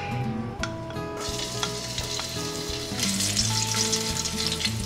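Ginger sautés in a little cooking oil, a dense, steady sizzle with spattering crackles and occasional stirring scrapes, close and loud with no voices.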